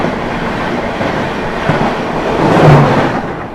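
Ranchi Dumka AC Intercity Express rolling past close by, a loud steady rumble of wheels with rhythmic clickety-clack and a brief metallic squeal near the end.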